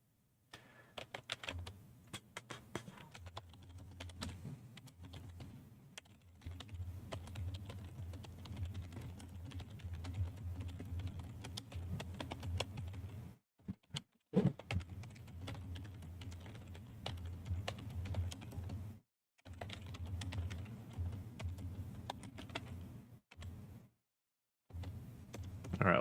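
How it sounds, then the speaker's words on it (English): Fast typing on a loud computer keyboard picked up by a sensitive microphone, dense clattering keystrokes in long bursts broken by brief pauses, close and continuous over a low room hum. "I know my keyboard is probably super loud because, well, my microphone picks up everything in the world"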